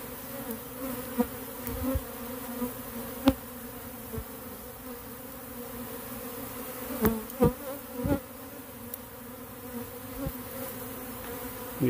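A small swarm of honeybees buzzes steadily and up close, a sustained droning hum broken by sharper zips from individual bees passing near.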